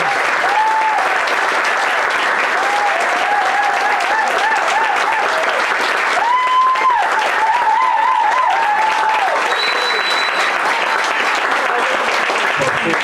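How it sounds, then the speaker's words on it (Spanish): Sustained applause from a crowd at a talk and book launch, steady clapping throughout with occasional whistles or cheers rising above it. "Un aplauso para Jack y para todos."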